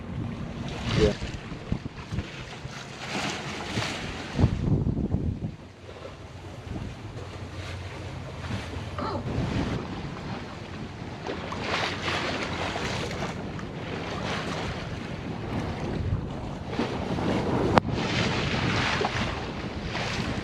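Steady wind rushes over a sailboat on a cloudy day sail through a gulf, with heavy buffeting and gusts on the microphone and the wash of water along the hull throughout, loud and continuous.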